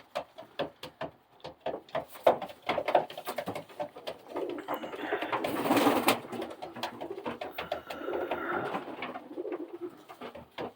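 Pigeons coo repeatedly in soft, rolling calls, with some clattering and rustling around them at close range.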